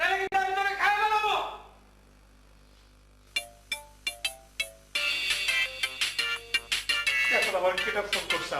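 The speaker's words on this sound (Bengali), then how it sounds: "এখন আবার কেটা ফোন করছে আমার।" A mobile phone ringtone in a Bangla comedy drama plays as a string of sharp, evenly spaced electronic chimes midway through, loud and close, with a voice talking before and after it.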